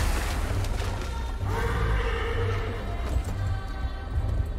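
A horse in the video game Darksiders Genesis whinnies loudly, with a rumbling clip-clop of hooves running beneath it against a dense game soundscape.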